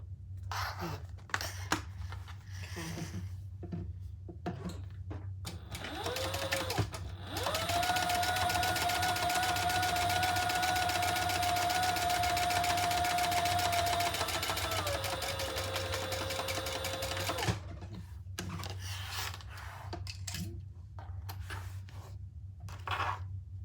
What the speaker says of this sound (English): We're gonna top stitch right here.